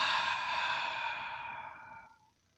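A single long, deep breath drawn steadily for about two seconds during a breathing demonstration, airy and close, fading out at the end with no talk.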